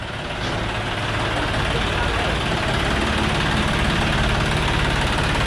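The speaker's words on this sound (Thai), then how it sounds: "เดี๋ยวให้ช่างแมนจอดรถก่อนนะครับ" A parked truck's engine idles steadily with a dense, low rumble and constant vibration, loud and close throughout with no change in pitch.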